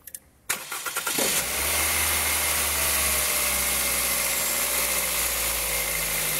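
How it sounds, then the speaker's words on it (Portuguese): A Toyota Corolla cranks briefly on a cold start, catches with a rising burst, then settles into a steady, fairly loud idle hum that continues to the end. "Ô, Daniela, funciona o carro pra gente aí."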